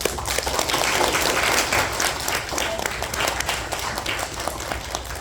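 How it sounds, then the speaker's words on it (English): Audience applause at an anniversary celebration, many people clapping in a dense, steady wash that stays fairly loud and eases slightly toward the end. "let's give a round of applause to Dan Chang."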